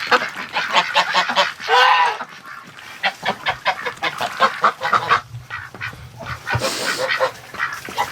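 A wintering flock of geese and ducks honks and quacks nonstop at evening lockdown, loud overlapping calls crowding close together with hardly a pause.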